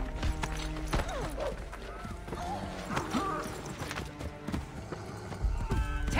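Horse hooves clip-clop in the Assassin's Creed Chronicles video game, steady galloping beats under a game soundtrack, with an occasional whinny and speech-like voices in the mix.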